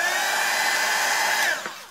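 A hair dryer blowing on wet watercolor paint runs as a steady, close whooshing whine, then its pitch drops and fades as it is switched off near the end.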